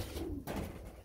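Pigeons cooing outdoors on rooftops at night, soft low coos heard up close against a steady background hum.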